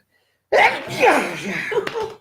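A single loud, close sneeze bursts out after a moment of silence, trailing off into a breathy exhale.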